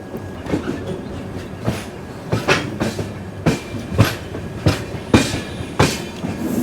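A train bound from Visakhapatnam to Araku Valley runs on a single line with a steady rumble and a regular clickety-clack of wheels over rail joints, heard from on board with no talking.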